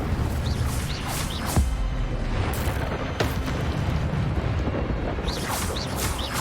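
Incendio fire spells cast repeatedly in Hogwarts Legacy, several bursts of whooshing flame with booming impacts during a hard-mode fight, spaced a second or two apart over a loud battle background.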